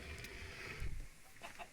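Chickens clucking in a dinosaur video game mod, a few soft low clucks over a quiet background, brief and fairly faint.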